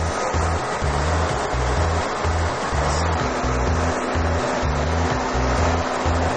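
Fluid flushing through an automatic particle counter test rig, a loud steady rushing like running water with a low rhythmic mechanical throb beneath it, continuous throughout with no talking.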